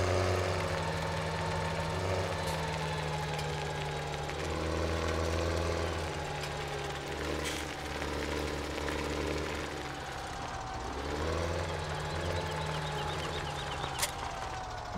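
A T7 tractor engine in Farming Simulator 17 hums in a low, steady idle with a droning tone that rises and falls slightly, close and continuous with no talk.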